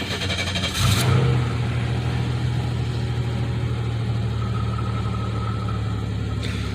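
A 1993 Chevy Lumina engine, started after sitting for hours, gives a short rev and then settles into a steady, even idle hum heard up close for several seconds.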